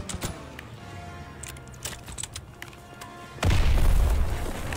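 A grenade goes off in a World War 2 video game: a sudden heavy boom partway through, dropping into a loud, sustained rumbling roar after quieter scattered gunfire and battle clatter.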